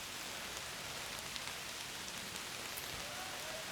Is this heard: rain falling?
yes